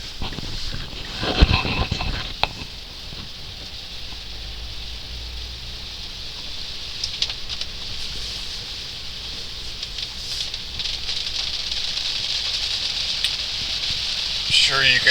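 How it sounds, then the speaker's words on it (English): Heavy rain pours onto a moving car, a constant hiss drumming on the body over road noise, with a voice speaking inside the cabin. "The rain has really started to pick up."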